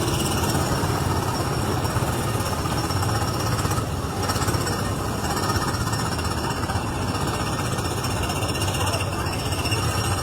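Loud theme park ride engines in Disneyland's Tomorrowland drone and rattle continuously, a heavy rumbling roar that persists throughout without letting up.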